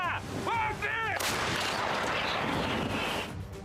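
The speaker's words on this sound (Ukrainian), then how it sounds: "Гармата!" An artillery cannon fires: a heavy boom bursts out and rolls into a long, dense rumble, preceded by brief distorted voice-like chirps; loud and close.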